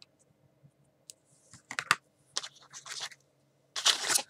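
Scissors snip overhanging tape off a card envelope for a mini album: a few quiet scattered clicks, then bursts of crisp scratchy snipping, close and alone.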